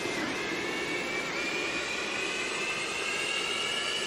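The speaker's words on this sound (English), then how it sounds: "these really loud engines are coming online" Jet engines of a Boeing 737-200 spooling up in the X-Plane 11 flight simulator, a loud steady whine with a slowly rising high tone over a broad roar, continuous and unbroken with no voices.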